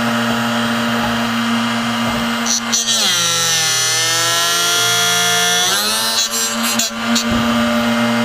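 A Drill Doctor drill bit sharpener grinds a bit as it is rotated and plunged. A loud, steady motor whine drops in pitch under load during the grind, then rises back to a high idle.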